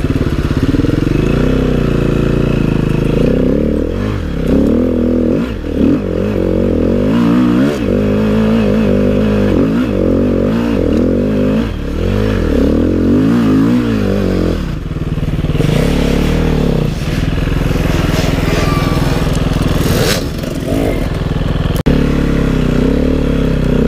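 An enduro motorcycle ridden through winter terrain, its engine droning loudly and steadily with rising and falling revs as the rider shifts and accelerates, plus occasional clatter.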